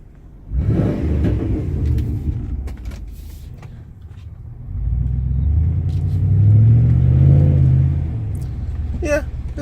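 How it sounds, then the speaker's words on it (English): A 1997 Chevrolet Silverado pickup with a Dynomax muffler drives along, its low exhaust rumble swelling as it accelerates and staying steady and close for several seconds, with faint cabin noises. "it's not a bad muffler. I actually like it better than the Flowmaster I had on it before."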